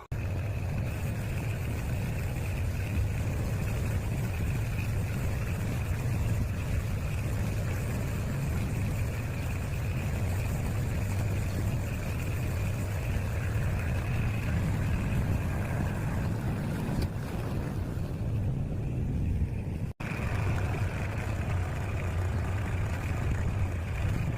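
A tractor engine runs steadily at a vegetable garden, its low mid-pitched drone near and continuous with no pauses, briefly dropping out for an instant near the end.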